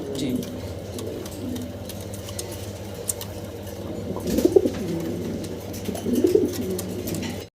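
Fancy pigeons coo steadily at a breeder's sale, soft repeated low calls from several birds overlapping close by, with a couple of slightly louder bursts near the end.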